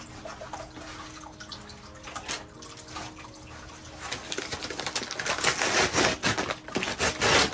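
Water poured from a can or hose onto potted Proven Winners plants outdoors, a steady broadband splashing and trickling that swells louder in the second half, with faint birds in the background.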